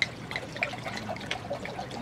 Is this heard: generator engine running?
no